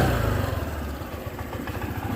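A Honda ADV150 scooter engine idles steadily close up with a low, even putter and faint mechanical clatter, with no talking.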